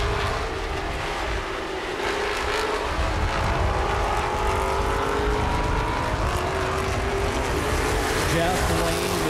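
Street stock race car roaring down the front stretch at a speedway, sustained engine noise under steady race commentary throughout.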